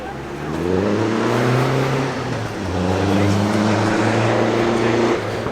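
A vintage car climbs the Prescott hill climb course, its engine a loud, steady, throaty drone with a brief dip as it shifts gear midway before pulling hard again until the end.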